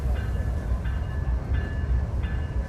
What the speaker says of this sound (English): they're pulling the presidential locomotive out right now